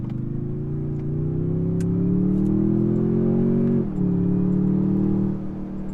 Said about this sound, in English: You hear the intake as you're on throttle, which is cool.